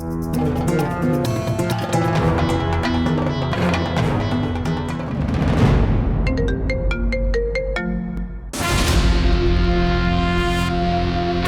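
A melodic phone ringtone plays loudly and repeats without being answered, its tune looping with no voices.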